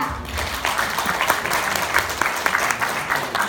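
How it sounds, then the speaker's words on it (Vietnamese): A crowd applauds with a dense patter of claps, fairly close and steady for several seconds, a little uneven in intensity. "Give them a round of applause."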